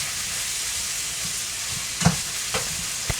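Pressed garlic sizzling in olive oil in a pan, a steady, close hiss of frying broken by a few soft stirring scrapes near the end.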